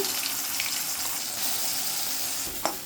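Ground paste dropped into a pan of hot oil with popping mustard seeds and fenugreek hisses in a steady, close sizzle, with one sharp spoon clink near the end and no voices.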